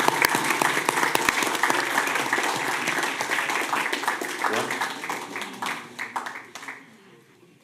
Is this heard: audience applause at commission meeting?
yes